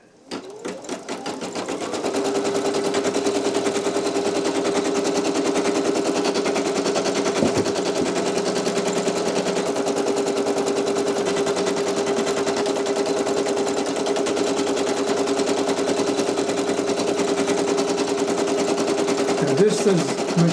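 A Brother PE800 embroidery machine stitches a design onto a towel with a steady, fast, continuous mechanical whirring and rapid needle clatter, starting up in the first couple of seconds and running loud and close throughout.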